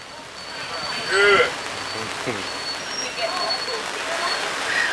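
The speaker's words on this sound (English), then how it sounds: "Now we have the rain." Rain falling onto a canopy along an outdoor trail at Disney's Animal Kingdom, a soft steady patter with brief louder drips, while a person speaks briefly and birds call faintly in the background.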